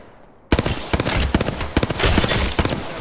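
Rapid bursts of automatic gunfire from a match of Apex Legends, loud and close, with dense rattling volleys and short pauses between strings of shots.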